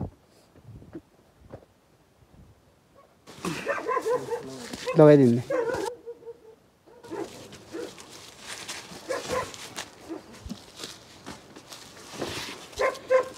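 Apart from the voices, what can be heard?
dogs barking and whimpering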